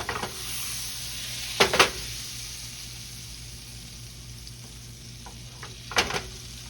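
Hot oil sizzles steadily in a pan on a raised flame before trout is sautéed, a constant hiss broken by a couple of louder crackling bursts, with no talking.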